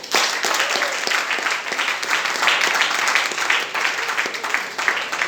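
A church congregation at a night vigil breaks into sustained, dense applause mixed with cheering and acclaiming voices, loud and continuous throughout.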